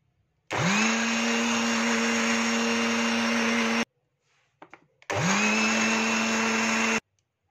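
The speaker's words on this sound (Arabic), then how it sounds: "بعد ما خلطنا كل الشوكولاته" A blender whirring loudly as it mixes raw keto chocolate, running in two steady bursts separated by a short pause with light clatter, no voices.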